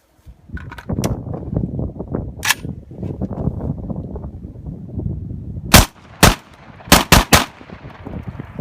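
Vepr 12 shotgun fitted with a muzzle brake firing 3.25 dram Suprema shells downrange, several sharp loud reports in quick succession near the end, preceded by clattering handling and rustling noises.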